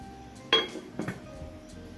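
A metal lid set onto a cooking pot of Jamaican rice and peas with pigstail: a sharp clink followed by a softer knock, close and brief, in a quiet kitchen.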